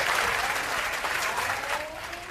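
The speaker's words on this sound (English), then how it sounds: "Really, the canned applause?" Canned applause plays during a local TV studio interview segment, a short, steady burst of dense clapping at moderate volume with no voices.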